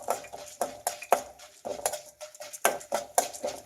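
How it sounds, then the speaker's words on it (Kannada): Urad dal frying in oil in a pan while being stirred: repeated metallic scrapes and clinks of a spoon against the pan in an uneven rhythm, close and fairly clear over a faint sizzle. "1 ಟೇಬಲ್ ಸ್ಪೂನ್ ಅಷ್ಟು ಉದ್ದಿನಬೇಳೆ ಹಾಕ್ತಾ ಇದ್ದೀನಿ. ಇದಷ್ಟು ಮಿಕ್ಸ್ ಮಾಡಿ."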